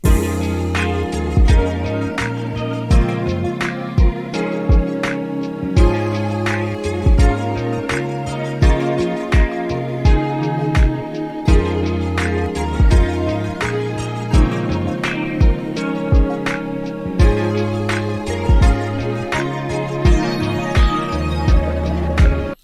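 A full Midwest emo-style hip hop track with layered, sustained synth pads over punchy drums and a steady beat, playing continuously without vocals.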